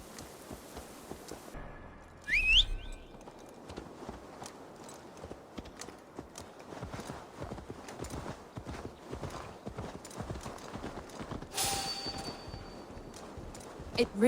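Horse hooves clip-clop in a steady rhythm through Assassin's Creed Valhalla, mid-distance and moderately loud, with a faint rain-like hiss behind them and voices talking over parts of the ride.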